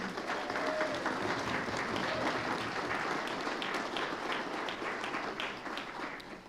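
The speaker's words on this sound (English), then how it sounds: "one more round of applause for our very own Hart Green" Crowd applause for a performer at a Sunday gathering, a thick, even roar of many hands clapping that holds steady and then begins to fade toward the end, with no speech.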